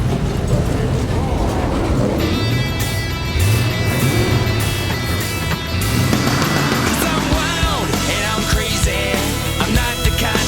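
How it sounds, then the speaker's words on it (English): Race car engines fire up and rev hard, a loud, continuous roar with rising and falling pitch that fills the whole stretch. "Gentlemen, start your engines."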